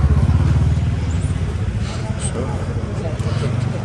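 A motorcycle engine runs steadily close by, a low throbbing drone that stays loud throughout with slight rises and falls, and no voices over it.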